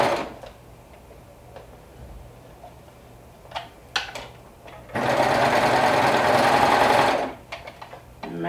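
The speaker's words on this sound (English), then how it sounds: "So now that we have top stitched it" Sewing machine top stitching fabric, quiet handling ticks at first, then a loud steady motor run of about two seconds before stopping, followed by light clicks.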